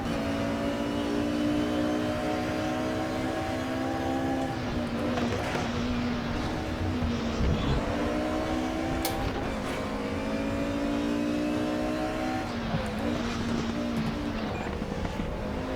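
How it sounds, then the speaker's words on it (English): A DTM-era race car engine in RaceRoom Racing Experience revs hard and continuously, with rising and falling pitch through gear shifts and a steady loud roar from start to finish. "Oh, this car got some torque."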